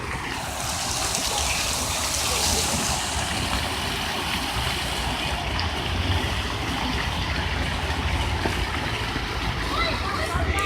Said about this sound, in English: Let me show y'all what the waterfall look like.